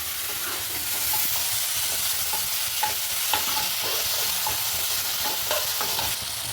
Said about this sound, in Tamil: வெங்காயம் தக்காளி எல்லாமே நல்லா வதங்கி வந்துருச்சு.